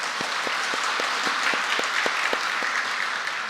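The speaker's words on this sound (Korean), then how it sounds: "우리 하나님께 영광의 박수 한번 하겠습니다." A church congregation claps together during a Sunday worship service, a dense steady wash of applause with rhythmic beats running through it, filling the room throughout.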